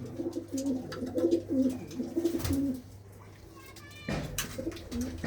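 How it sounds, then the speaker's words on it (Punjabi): A Rajan-line racing pigeon in a village loft at Bhindar Kalan coos in repeated throaty bursts close by, with a pause and then a fresh call, while people talk intermittently. "ਇਹ ਰਾਜਨ ਵਾਲਾ ਕਬੂਤਰ ਆ ਦੇਖੋ ਬਈ ਸਵਾਸਰਾ ਕਬੂਤਰ ਆ"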